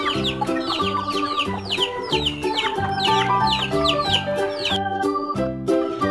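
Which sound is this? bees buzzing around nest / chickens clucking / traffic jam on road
chickens clucking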